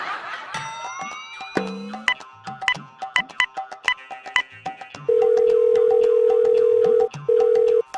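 Short phone beeps are followed by a loud, steady ringing tone that stops briefly and then rings again.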